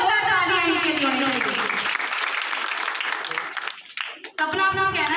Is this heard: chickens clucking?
no